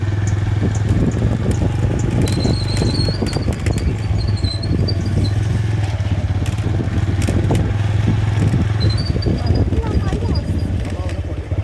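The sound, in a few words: motorcycle riding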